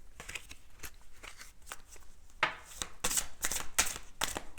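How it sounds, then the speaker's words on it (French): Tarot cards are shuffled and drawn at close range, making a run of soft papery riffles and sharp flicks in uneven bursts that grow denser toward the end. "je vais tirer une carte dans la fleur de vie"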